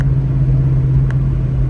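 Ford Mustang Foxbody engine running with a loud, steady low rumble close by, unbroken for the whole short stretch and with no voices.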